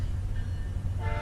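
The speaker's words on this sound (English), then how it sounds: "Yeah, I know, trains go by all the time." A train passing close by with a heavy low rumble and rolling rail noise, a steady tonal whine running throughout, loud and continuous, with no talk.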